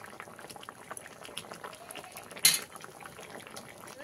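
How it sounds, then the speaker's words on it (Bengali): An egg sits in curry gravy as it boils in a pot, giving a soft continuous bubbling with a sharp metallic clink partway through. "ঝোলের মধ্যে ডিমটাকে এরকমভাবে একটু আস্তে আস্তে ডুবিয়ে দিলাম, অল্প কিছু সময়ের জন্য ফুটতে দেবো"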